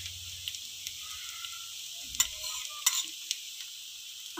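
Rava-coated bread toast frying in ghee in a pan over low heat, a faint, steady sizzle with soft stirring and scraping touches and a couple of brief clinks, no voices.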